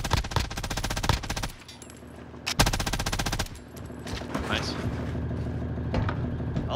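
Bursts of MG82 machine gun fire in Call of Duty Cold War Warzone, loud rapid rattling volleys that stop and restart, with game effects and a voice talking over the gunplay.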